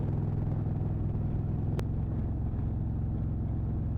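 An Indian motorcycle with a fairing cruising along, a steady close low engine rumble and road noise that holds an even pitch throughout, broken by one brief sharp click.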